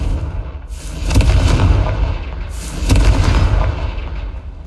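Confringo spell explosions in a Harry Potter video game: two loud, close booming blasts about two seconds apart, each swelling and then rumbling away over steady background noise.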